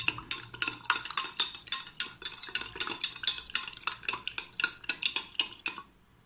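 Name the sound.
spoon stirring salt into a glass of water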